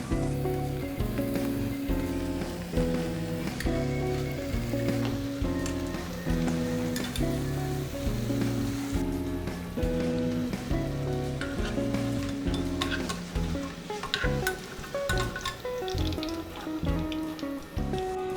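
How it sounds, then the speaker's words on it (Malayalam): A fresh batch of bread slices frying in oil for a sweet bread-and-milk dessert gives a steady, close crackling sizzle with occasional stirring, set under continuous background music. "അതുപോലെ അടുത്ത സെറ്റും വറുത്തെടുക്കാം."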